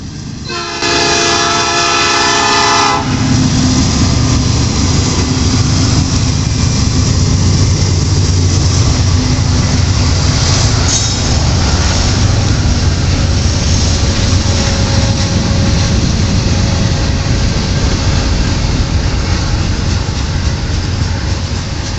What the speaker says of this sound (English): this is a mixed manifest leaving Battle Creek